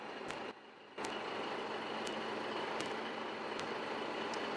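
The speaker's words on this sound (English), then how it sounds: "truck coming" A truck engine drones steadily in the video game Foxhole, a heavy continuous rumble that drops briefly and then returns louder, with a few sharp clicks on top.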